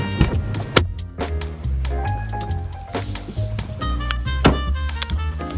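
Someone getting out of a car, with shuffling and rustling, a few sharp thunks of the door and body, and mechanical whirring at close range, ending with the door closing; no one talks.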